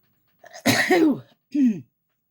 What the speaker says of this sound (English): I gotta sneeze, you guys.